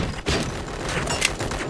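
Gunfire in the RoboCop: Rogue City video game: a dense, noisy burst of shots and impacts running for under two seconds, loud and fairly steady, with a few sharper cracks standing out.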